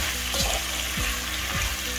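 Chopped onions sizzling and splattering in hot oil for chicken korma, a steady close crackling fry with a few soft stirring scrapes and no talk.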